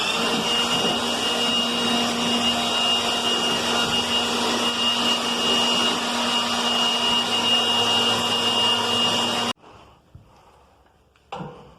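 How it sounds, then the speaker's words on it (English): A blower roars steadily as it clears loose feed off a calf barn floor, loud and continuous for most of the span, then cuts off abruptly into near silence before briefly starting again. "I'm going to blow this all out"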